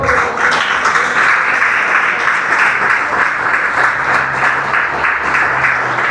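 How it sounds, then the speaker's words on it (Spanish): Loud, sustained applause from a church congregation fills the space, a dense wash of clapping that holds steady without pause, with faint voices murmuring underneath. "si lo vas a aplaudir, apláudalo"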